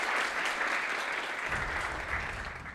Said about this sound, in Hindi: शाबाश, तालियां नहीं बजाओगे इसके लिए?